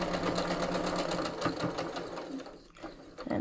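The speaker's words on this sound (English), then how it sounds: "sew a 1/4 inch seam allowance down both sides of that line" A home sewing machine stitches a quarter-inch seam on a quilt block sweatshirt, running in a steady, fast motor hum with rhythmic needle chatter that slows and pauses near the end before restarting briefly.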